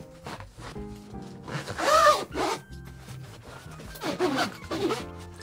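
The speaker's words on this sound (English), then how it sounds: "close the top, zips around very nicely" Zipper being pulled around the lid of a carry-on suitcase to close it, several quick rasping runs with short pauses, close and clear with no talking.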